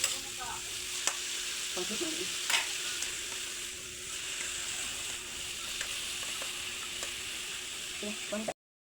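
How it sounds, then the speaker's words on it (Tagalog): Bitter gourd (ampalaya) being stir-fried in a pan, with a steady close sizzle and occasional scraping stirs throughout, fairly loud and uninterrupted until it cuts off near the end. "I added the ampalaya and stir it for 2 to 3 minutes until it tender."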